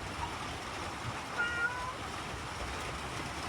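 A cat meows outdoors in the rain near a chicken coop, calls faint and partly masked by steady rainfall and low background rumble.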